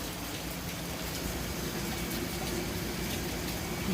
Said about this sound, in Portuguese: Só tá passando a chuvinha